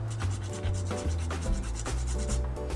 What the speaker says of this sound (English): Then get your nutmeg. And then we are gonna grate on top.